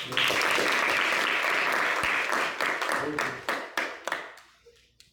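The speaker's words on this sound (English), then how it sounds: "don't you think they deserve a huge round of applause?" An audience at a youth leadership meeting breaks into a loud round of applause for the youth leaders, dense clapping that thins into scattered claps and fades out over several seconds.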